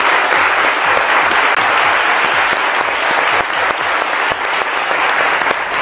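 Loud, sustained applause from a crowd, dense clapping filling the whole stretch without pause.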